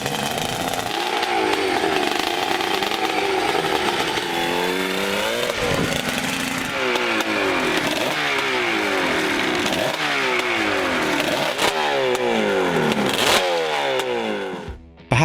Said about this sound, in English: Also noted was the extremely deep and muscular sound of this engine.